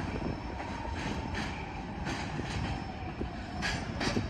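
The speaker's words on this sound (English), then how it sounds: "All right, look at that train." A westbound Richmond Pacific freight train rumbles past nearby at the Richmond Amtrak station, with a steady rolling roar and faint wheel clatter, no voices.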